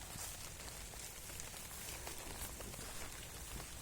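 Rain falls steadily on a rural homestead, a dense patter of drops on surfaces with faint scattered taps, constant and unbroken with no voices.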